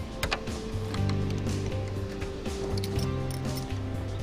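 Close metallic clicks and ratcheting of a wrench working a bolt free from a rod end, with short repeated tonal whirs in a steady, quiet mechanical rhythm.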